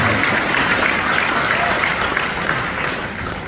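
A rally crowd at a John Lewis Good Trouble event applauds, a dense, steady wash of clapping that fades slightly toward the end.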